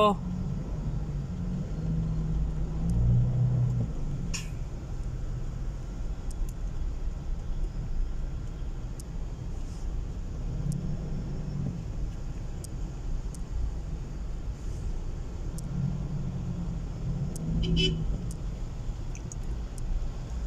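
Road traffic in Quezon City rolls past as a steady low rumble of congested cars, with occasional brief higher sounds over the continuous drone.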